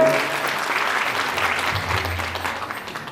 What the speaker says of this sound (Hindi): जोरदार तालियों से आप सारी संगत